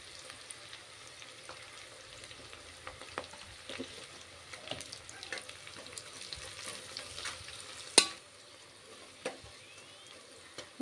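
Onion frying in a pan with salt and turmeric for a chicken gravy curry, a faint steady sizzle with light stirring scrapes and one sharp clack of a utensil, no speech.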